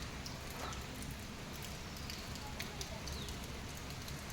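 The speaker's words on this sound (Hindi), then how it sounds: "दिख नहीं रही है बारिश पर बारिश हो रही है" Steady rain falling outdoors, a dense even hiss of drops with no clear gaps, moderately close and fairly soft.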